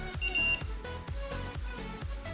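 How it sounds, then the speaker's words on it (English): A DIY robot's digital buzzer plays a series of electronic beeps and tones in an irregular rhythm, fairly loud and close, with no speech. "By creatively utilizing the limitation of the digital buzzer, we enhanced the robot's interactivity and charm."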